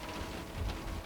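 Rain falls outdoors in a steady, soft hiss of drops, a brief continuous patter at moderate distance with no voices over it.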